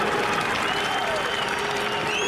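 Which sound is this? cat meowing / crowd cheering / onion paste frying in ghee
crowd cheering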